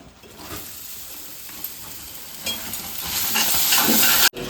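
A spoon stirring melted jaggery and coconut in ghee in a pan for modak filling: a steady, close hiss and sizzle with soft scraping that swells louder toward the end, then cuts off abruptly.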